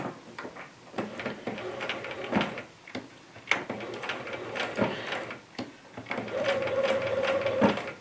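Sewing machine stitching dotted Swiss fabric, with bursts of rapid mechanical whirring and ticking separated by short pauses, close and clear, the last run longer and steadier.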